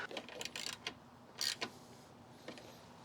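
A screw being fitted into the grille of a Toyota Levin AE86 under restoration, heard as a few short, faint creaks and mechanical clicks in quick bursts against quiet room noise.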